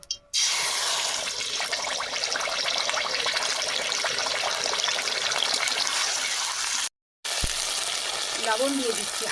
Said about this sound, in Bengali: তেল গরম হয়ে গেছে আদা বাটা দিয়ে দেবো